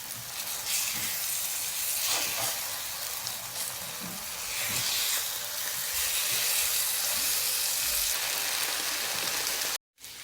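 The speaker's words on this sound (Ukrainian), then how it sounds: "І смажу печінку з бок сторін до золотистої кірочки" Steady, dense sizzling of chicken liver frying in a hot pan, loud and continuous with crackling spatters throughout, cut by a brief dropout near the end.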